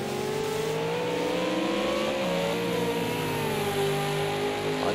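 Race cars accelerate around the Bathurst circuit in an Xbox console sim race, several engines droning and climbing in pitch together, loud and continuous with no speech.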